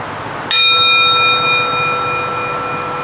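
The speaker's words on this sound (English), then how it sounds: "Notice the feelings as we hear the bell." A single meditation bell is struck once to close a formal practice period, a clear bright strike followed by a long sustained ringing tone that fades slowly in a quiet room.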